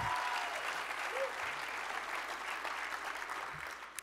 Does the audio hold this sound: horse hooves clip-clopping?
no